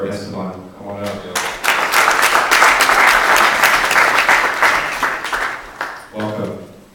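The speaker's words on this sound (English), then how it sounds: "let's give a big round of applause for Esteban" A crowd bursts into sustained applause that swells and then fades, with a person speaking briefly before and after.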